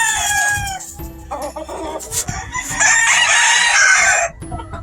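An Albany rooster on a Georgia farm crows loudly and close, with a long drawn-out call in the second half, while hens cluck and chatter around it.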